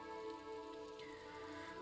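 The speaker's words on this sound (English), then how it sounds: "Rain falls down on the world." Steady rain falls in the Disco Elysium video game, a dense, even patter on surfaces holding at a constant level throughout, with no voices.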